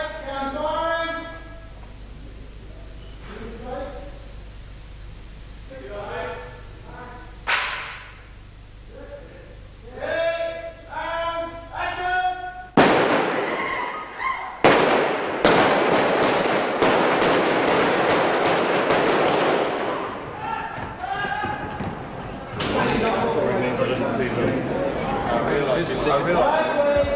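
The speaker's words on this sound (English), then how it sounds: "Okay, gun firing." Prop guns fire on a film set in Wellington, New Zealand, as a loud, rapid volley of sharp cracks packed close together for about ten seconds. Voices and higher calls are heard before the shooting.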